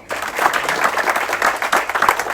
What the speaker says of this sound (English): Big applause Ade.